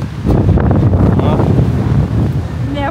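Strong coastal wind on the Curonian Spit at Neringa, heard as a loud, continuous roar pounding the microphone close up, with a short burst of talk near the end.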